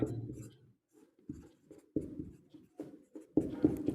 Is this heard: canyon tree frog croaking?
no